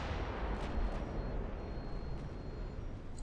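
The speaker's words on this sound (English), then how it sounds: "There's what we're looking for from those 11-inch guns." Heavy 11-inch naval guns firing in the warship game Ultimate Admiral Dreadnoughts, heard as a rumbling boom with a long, dull roar trailing off, moderately loud with no talk.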